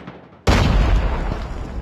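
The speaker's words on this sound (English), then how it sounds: "Grenade out." A grenade explodes in the Call of Duty Mobile video game with a sudden loud, close boom that cuts in after a quiet moment and rumbles on as a sustained roar.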